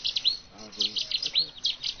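Cetti's warbler singing in loud, rapid bursts of sharp, ringing notes, repeated several times in quick succession close to the listener with no talking.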